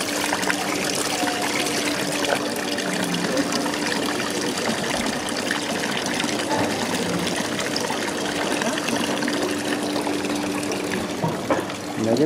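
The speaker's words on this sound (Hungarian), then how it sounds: "És egy kis csobogó Jézuska" A small babbling fountain with a statue of Jesus trickles steadily and continuously in Sorrento, with faint background voices mixed into the constant water sound.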